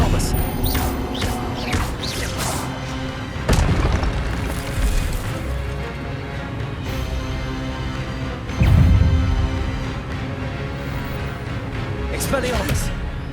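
Disarming Expelliarmus spells cast in the Hogwarts Legacy video game: two heavy magical bursts stand out over a continuous bed of game music and ambience, with smaller crackling flashes between them.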